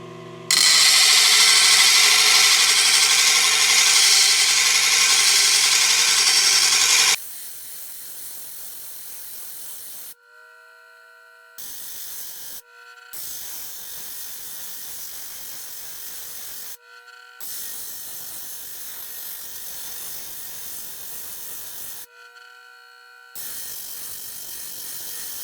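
A coarse 180 grit grinding wheel reshapes the angle on a metal part for a mini slick, running as a loud steady grind for several seconds, then a quieter, steadier whir broken by short pauses.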